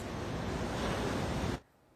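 High ocean surf pounds a Grand Strand beach under rip-current conditions, a loud continuous wash of breaking waves and wind that cuts off abruptly to quiet near the end.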